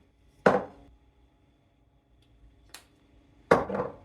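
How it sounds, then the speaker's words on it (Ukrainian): Three sharp thuds of a hammer pounding pieces of meat flat on a board while preparing French-style baked meat with potatoes and cheese, spaced apart with quiet gaps between them, the last strike followed by a short rattle. "Я його буду відбивати молотком і після чого буду викладувати у форму"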